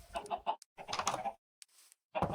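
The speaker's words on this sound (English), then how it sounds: "I built this nice little, like, chicken pen." Chickens in a pen in a video game give short bursts of clucking, a few quick calls, a brief pause, then more clucks, close and clear with no talk.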